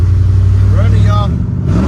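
A drift truck's engine idles steadily with a deep rumble, then revs up briefly and settles back, loud and close, with a voice talking over it.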